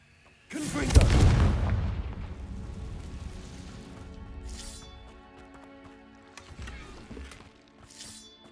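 A fiery Confringo spell blast in Hogwarts Legacy: one loud, close booming burst that rumbles and fades over several seconds, followed by softer magical impacts, with a spoken spell incantation nearby.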